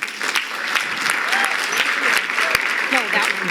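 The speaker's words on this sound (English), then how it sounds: "Give them a round of applause." Sustained audience applause fills a gala hall, dense and steady throughout with a few louder claps and faint voices mixed in.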